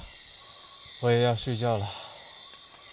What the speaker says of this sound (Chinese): 听着虫鸣鸟叫入睡